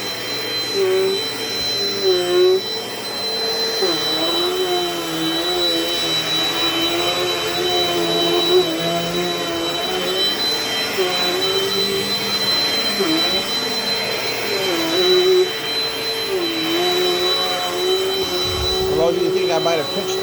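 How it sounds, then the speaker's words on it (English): A Dirt Devil Dynamite Plus vacuum cleaner runs loudly and continuously, cleaning a floor with a steady high motor whine and wavering pitch, while a voice speaks at times over it. "so I sort of vacuum off the floor so it's got a clean workspace"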